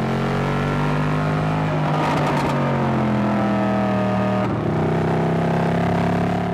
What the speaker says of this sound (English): This is an out-and-out sports car that has just enough creature comforts.